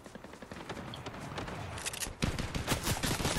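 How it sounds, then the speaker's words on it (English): Video game gunfire, heard as rapid bursts of shots that grow denser and louder partway through, with distant shooting mixed into a busy game soundscape. "oh, who's shooting at me then, Terry?"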